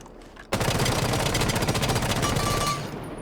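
An automatic rifle in Rainbow Six Siege fires a sustained rapid burst at a training dummy, about two and a half seconds of loud, evenly spaced shots ending abruptly, with no talking.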